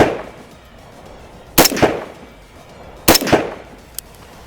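Rifle shots fired slowly during zeroing at a range: two sharp, loud reports a second and a half apart, each with a brief echoing tail, then a small faint crack near the end.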